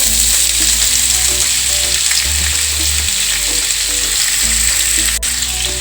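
Onions frying with green chillies in a pan for methi pyaj sabzi, giving a loud, close, continuous sizzle with soft stirring underneath and one brief sharp tick near the end.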